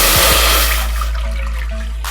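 Water pours from a vessel into a pan on a stove to make Kashmiri pink chai: a loud, close rush and splash that tapers into softer trickling.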